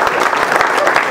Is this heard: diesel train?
no